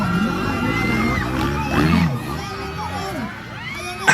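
Spectators at a kids' race final heat shout and cheer loudly and continuously, children's yells and whoops rising over a dense crowd roar.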